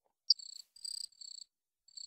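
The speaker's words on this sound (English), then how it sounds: "Was it the crickets?" Cricket chirps from the video game Life in the Woods: short, high, clear trills repeated in bursts with brief gaps, close and fairly quiet, with no talking.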